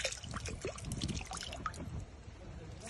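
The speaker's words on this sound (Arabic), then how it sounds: "انظروا ايضا احد المنابع الصغيرة التي تنبع هنا ما شاء الله" Water from a small spring in the high Shada mountains trickles and gurgles close by, faint and continuous, mixed with rustling and handling noise, while a voice talks over it.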